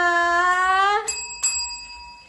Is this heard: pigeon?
no